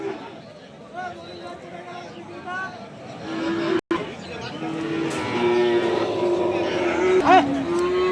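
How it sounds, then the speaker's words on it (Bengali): A 13–14 month old bull, a tall, lean, bony Indian border-cross animal, moos at a busy livestock market, its low calls rising over constant crowd chatter and someone talking nearby. "সুন্দর একটা ষাঁড় গরু দর্শক"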